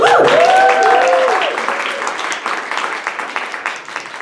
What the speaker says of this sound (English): Please keep clapping until I tell you to stop.